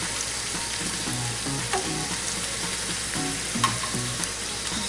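Tortillas frying in oil in a pan for chilaquiles rojos, a steady close sizzle with occasional pops and faint stirring, no talking.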